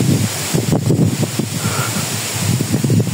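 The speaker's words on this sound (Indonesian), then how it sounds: "Anginnya cukup kencang di sini." Strong wind blows outdoors in a quiet village, rumbling loudly against the microphone in uneven gusts that continue throughout.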